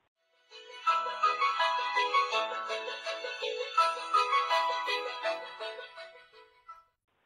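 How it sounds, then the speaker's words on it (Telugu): A cell phone lying on a table plays a melodic electronic ringtone, a bright run of tune notes repeating for several seconds and then stopping, with nothing else heard. "టేబుల్ మీదున్న సెల్ ఫోన్ అదే పనిగా మోగుతూ ఉంటే"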